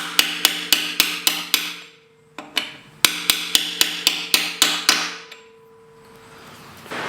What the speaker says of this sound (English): go over like that, and we're going to hammer it down